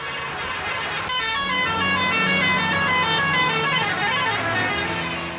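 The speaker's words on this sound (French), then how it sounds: "Il faut jouer du klaxon pour se frayer un passage." Repeated vehicle horns, bus and truck toots among them, blare over dense road traffic on a crowded Rajasthan road, loud and overlapping for the whole stretch.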